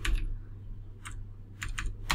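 Computer keyboard keys pressed while setting Odia text in Photoshop: a few separate sharp clicks and short bursts of keystrokes, close and clear over a low steady hum, with no talking.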